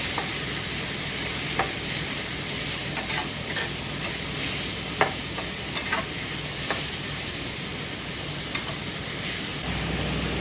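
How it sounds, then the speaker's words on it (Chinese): Meat stir-frying in a hot pan in a rural mountain kitchen, a steady loud sizzle with scattered sharp crackles and scraping stir strokes throughout, no voices. "再把这个肉下锅炒。"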